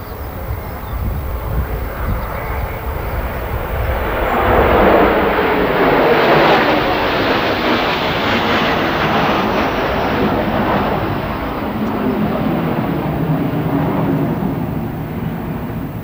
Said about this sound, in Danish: Flere fly ser vi skifter plads i formationen.